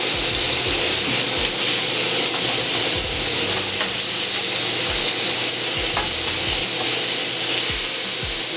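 Short ribs browning on a griddle sizzle loudly and continuously close up, an even hiss of frying fat broken by occasional faint pops and crackles.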